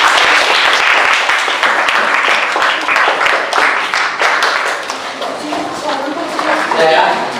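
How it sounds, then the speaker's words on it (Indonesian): Classroom audience applauds a student presentation group, with steady, loud clapping from many hands, continuous and close, plus some voices mixed in. "Berikan aplaus untuk kelompok."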